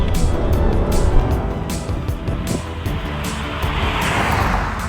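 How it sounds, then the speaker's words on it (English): The straight-six engine of the original BMW M5 gives a loud, continuous snarling roar with rasping harmonics, holding steady throughout at close range. "it's the snarl of a straight 6"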